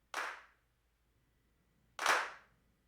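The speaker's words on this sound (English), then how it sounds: "The claps I have right here, they're dry for the most part. They go through like a short room and a slap delay to give it a vibe." Two separate handclaps, about two seconds apart, each a sharp crack followed by a short room reverb and a slap-delay tail that makes it sound like several people clapping together.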